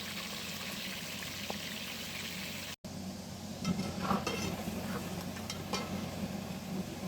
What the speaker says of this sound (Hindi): बीफ को 2 से 3 मिनट तक फ्राई कर लेंगे।